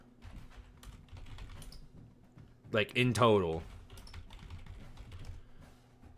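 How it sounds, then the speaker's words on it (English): Computer keyboard typing with a keyboard spring that may be broken, faint scattered key clicks throughout, with a brief burst of speech in the middle. "Every time I type a key, it goes ding, and it pisses me off."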